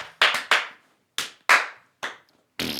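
Hands clap close by in about seven loud, sharp, separate claps with an uneven rhythm and short silent gaps between them, followed by a brief burst of noise at the end.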